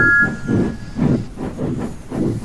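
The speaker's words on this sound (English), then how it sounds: "they struggled gamely on, twin columns of steam shooting high into the air" Steam engines working hard up a hill chuff in a steady rhythm of loud, close, pulsing hisses, about two beats per second, with a faint whistle-like tone at the start.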